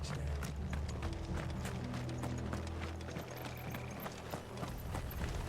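Horse hooves clip-clop at a steady trotting rhythm in Final Fantasy XVI, fairly close and continuous beneath game music and ambience.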